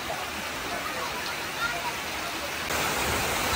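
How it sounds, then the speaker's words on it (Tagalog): Heavy rain pouring down outdoors, a steady, dense roar of falling water with no breaks, even in loudness and swelling slightly near the end. "Grabe ang lakas ng ulan."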